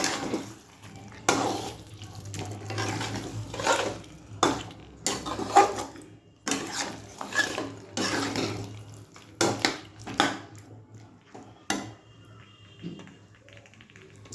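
Water is poured into a pot of meat and potato curry with tomato and stirred, giving intermittent splashes, scrapes and clinks of a utensil against the pan in a quiet kitchen.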